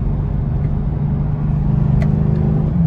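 A Mercedes car holds fourth gear under acceleration with a sluggish paddle upshift to fifth, giving a steady, loud engine drone and road rumble from inside the cabin, with no talk.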